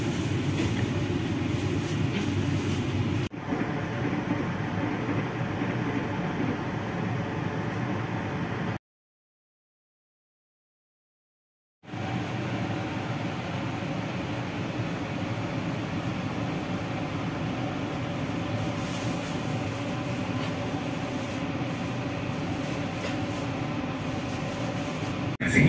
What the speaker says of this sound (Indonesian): Sepertinya mau ada kereta api melintas, kena silang mungkin.